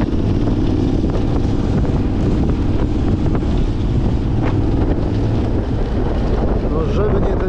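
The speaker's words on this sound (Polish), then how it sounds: "No żeby nie ten wiatr" Strong wind buffets the microphone in a constant low roar in an empty town, steady and loud throughout.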